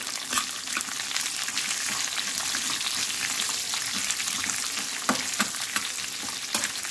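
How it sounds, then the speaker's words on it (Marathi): A large, coarsely chopped onion fries with chilli and garlic in a constant, dense sizzle, with occasional sharper stirring clicks and no voices. "याला आपण मस्त फ्राय करून घेऊया।"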